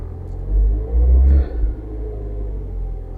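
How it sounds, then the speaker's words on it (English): Mini car engine idling as it warms up after running on old fuel, a steady low rumble near at hand that swells briefly early on and then settles to an even drone, with no talk. "let the engine come up to operating temperature"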